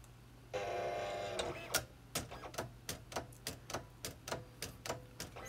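Cricut cutting machine working on vinyl: a brief whirring burst, then a steady series of sharp ticking clicks at an even rhythm, close and fairly quiet, with no voices.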